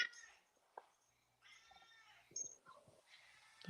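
A cat meows a few times, faint and somewhat distant, with short cries separated by quiet gaps.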